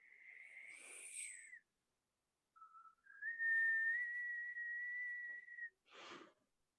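A voice imitates a distant whistling sound: a high wavering whistle, a brief pause, then a long sustained whistled tone, ending with a short breathy burst, heard alone in a quiet space.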